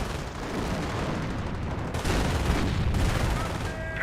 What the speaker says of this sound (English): And now we've got the 28cm rocket barrage.